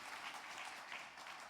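A church congregation at a new-member welcome service claps to greet a newcomer who has stood up, a faint but continuous ripple of hand-clapping with no voices over it.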